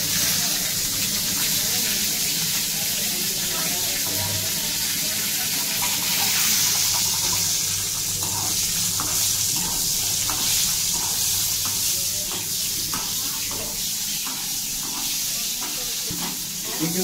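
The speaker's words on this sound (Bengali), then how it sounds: "চিকেন সসেস ভাজা হচ্ছে" Chicken sausages fry in hot oil at a Kolkata street food stall, giving a steady, loud sizzle and bubbling that runs through the whole stretch, with faint background voices beneath.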